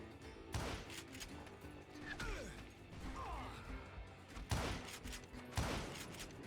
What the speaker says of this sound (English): Robert Ollinger appeared with his terrible double-barrel shotgun.